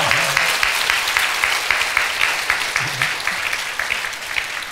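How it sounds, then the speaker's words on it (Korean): Korean church congregation stamping their feet in rhythm during a Sunday worship song, a dense steady thumping wash with clapping-like texture, continuous and fairly loud throughout, with faint singing voices underneath. "구원받은 사람은 발 굴려 쿵쿵."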